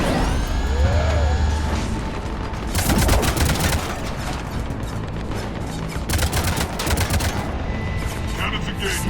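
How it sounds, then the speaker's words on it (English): Cannon gunfire in the Mass Effect 3 video game comes in heavy, rapid bursts of booming shots, loud and close, separated by short pauses and mixed with other combat effects and brief voice lines. "Cannons engaged."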